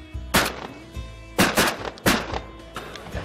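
Several sharp shotgun blasts ring out in quick irregular succession while duck hunting at low tide in Larson Bay, Alaska. Each crack is loud and close, with short echoing tails between shots.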